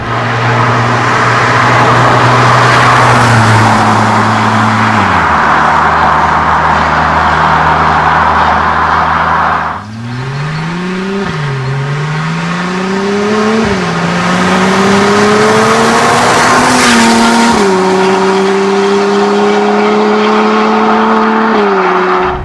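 A loud Porsche 987 Cayman S Mk2 with sport exhaust drones steadily, then revs and shifts through gears, the exhaust note climbing in pitch with each acceleration.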